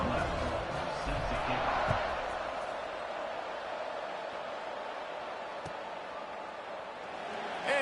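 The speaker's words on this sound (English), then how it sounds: "this crowd is buzzing after that last score." A football stadium crowd roars and buzzes steadily after a score, a dense, sustained wash of many voices with a few sharp thuds, filling the whole stretch at fairly constant loudness.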